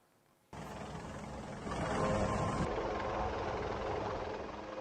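An Indian Air Force helicopter airlifts stranded survivors at a landslide disaster site, giving a steady, loud broadband engine and rotor roar that swells partway through and then holds.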